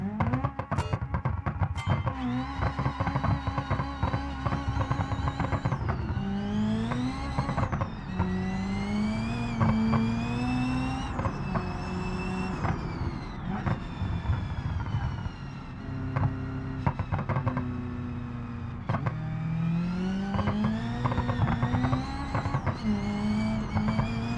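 A turbocharged Group 5 race car in a racing video game revs hard and continuously, its engine pitch climbing and dropping through repeated gear changes and staying high in the rev range, loud and steady.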